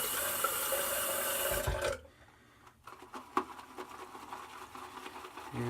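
Water trickles and splashes from a tap, first as a steady flow and then cut off. After that come quieter clinks and handling sounds as the water is worked into Proraso Red shaving soap, with no voices.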